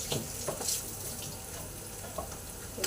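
Tap water runs steadily in a kitchen sink while raw prawns are rinsed and cleaned, a continuous close wash with a few light splashes and clinks.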